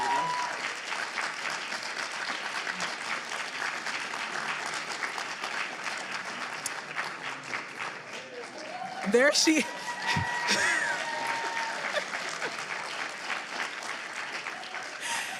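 Steady applause from an audience at a campus leadership seminar, a dense, even patter of many hands held for the whole stretch, with a brief voice breaking in near the middle.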